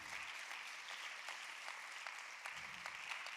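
A church congregation applauds during a Spanish-language sermon, with steady, dense clapping from a crowd that holds at an even level for the whole stretch.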